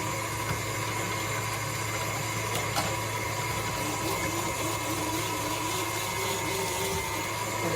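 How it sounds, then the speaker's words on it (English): KitchenAid stand mixer running steadily on speed 4 while grating carrots for carrot ginger cupcakes, a constant close motor whir with a strong low hum and no break in its loudness. "this is on speed 4 of the KitchenAid stand mixer"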